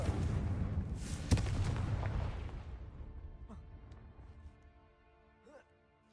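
A Confringo spell blast in Hogwarts Legacy erupts in a loud, sharp boom near the start, then its rumble and debris fade over several seconds, with brief game sounds chirping afterward.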